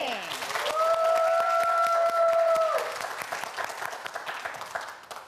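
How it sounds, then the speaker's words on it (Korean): A studio quiz-show audience breaks into applause after a shouted cheer, bright clapping with a sustained tone over it at first, then thinning into scattered claps that fade toward the end. "파이팅 외치면 여러분은 박수 한번 크게 보내주세요"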